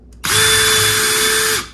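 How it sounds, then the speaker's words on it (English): A cordless drill spins up sharply and runs at steady high speed for over a second, bit working into material, loud and close, then winds down; no voices. "when I was drilling, it kind of started to stop when my drill bit hit about there"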